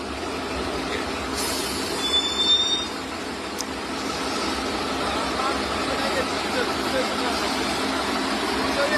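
A train rolls past a level crossing with a steady, continuous rumble and a brief high wheel squeal, heard at moderate distance with outdoor background noise.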